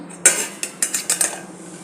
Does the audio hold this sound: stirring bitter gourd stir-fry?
yes